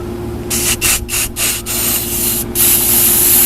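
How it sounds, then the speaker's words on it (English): Truck bed liner coating sprayed from a can onto a metal flag pole, heard as close hissing bursts, several short sprays in quick succession followed by a longer continuous hiss over a faint low hum. "I'm going to spray it down with some truck bed lining and coating, and just so it don't rust."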